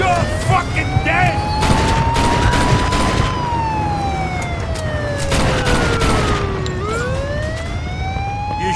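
Gunfire in the Mafia 2 video game, bursts of shots over a wailing police siren that rises and falls, loud and busy with shouting voices mixed in.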